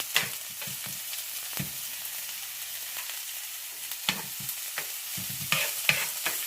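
Half an onion fries in a pan with a steady sizzling hiss, broken by the scrape and clatter of stirring now and then; nobody talks.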